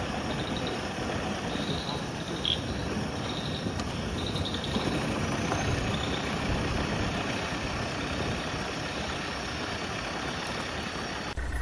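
A lorry engine idling and rumbling on a dark forest road at night, a steady low drone heard close and continuous, with crickets chirping high above it throughout.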